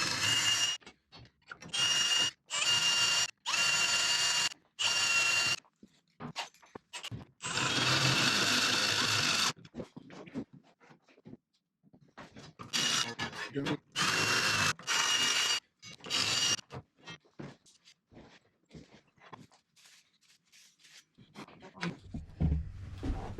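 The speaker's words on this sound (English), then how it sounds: "I just need to drill the holes in it" Power drill boring mounting holes in a metal rip fence for a table saw in a small woodshop, sounding in several loud bursts of a few seconds each with short pauses between them and quieter handling noises toward the end.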